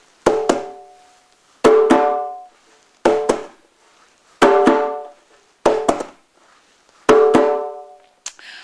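A djembe hand drum struck with basic bass and treble strokes, played in six sharp pairs of hits spaced evenly apart, each with a short ringing decay, close and clear with nothing else heard.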